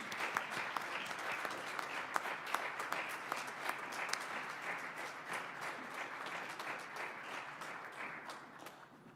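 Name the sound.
audience applause at an awards ceremony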